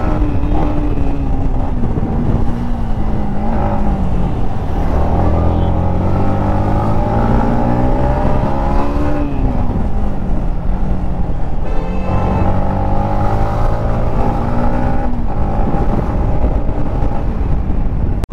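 A KTM 390 motorcycle being ridden, its engine whining through rising and falling revs as it shifts gears, steady and fairly loud with wind buffeting throughout.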